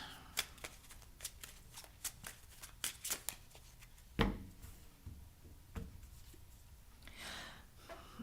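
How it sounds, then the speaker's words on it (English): Tarot cards being shuffled by hand, a run of crisp riffling snaps and soft slides in an irregular rhythm, close and fairly quiet with no talking over it. "Okay, I shuffled, and here it is, Chris, the Tower"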